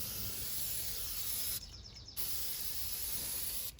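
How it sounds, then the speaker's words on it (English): Brake cleaner hisses from an aerosol can onto a new rear brake rotor of a 2013–2016 Ford Escape, with two long, loud, close bursts of spray split by a short pause and a third cut off at the end. "you wanna spray that with brake cleaner on both sides"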